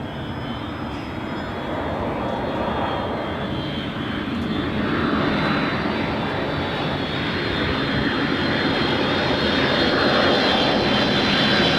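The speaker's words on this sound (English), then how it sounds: "Delta 515 coming in from Atlanta" Delta airliner on approach to LAX after a flight from Atlanta, a loud, sustained jet engine roar with a high whine that slowly swells as the plane passes near.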